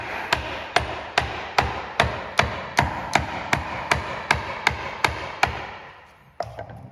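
A steady series of about a dozen sharp, evenly spaced hammer blows on a chisel, cutting out the waste of a halving joint in wood. The strikes are close and loud and stop near the end, followed by a couple of lighter knocks.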